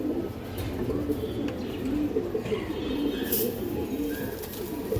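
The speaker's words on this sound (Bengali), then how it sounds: "এগুলো পুরোনো জাতের সবুজ গোলা কবুতর দর্শক।" Old-breed green gola pigeons cooing steadily in a busy loft, soft overlapping coos forming a continuous murmur with faint background voices.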